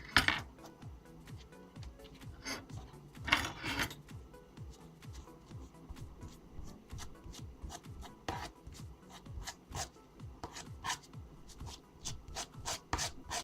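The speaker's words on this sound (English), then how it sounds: "Now that half of my oyster mushrooms are all shredded up" Oyster mushrooms being pulled apart and shredded by hand with a fork for vegan seafood, giving soft, steady rubbing and tearing scrapes with a few louder rasps, close and continuous with no talk.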